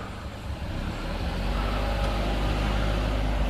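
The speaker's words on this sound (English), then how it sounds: "I think that car might have just pulled in to have a look as well." A car pulls in at night near a heritage railway's illuminated Christmas display, its engine a low steady rumble that grows slightly louder and closer, with no talk over it.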